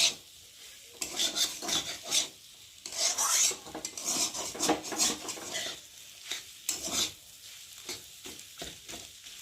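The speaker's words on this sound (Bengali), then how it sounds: "দেওয়ার পরে এখন আলুগুলোর সাথে ডিমটাকে আমি ভালো করে মিশিয়ে নেব" A spatula stirring egg into potatoes in a pan, with repeated scraping and rasping strokes over a faint sizzle, irregular and close, with no voices.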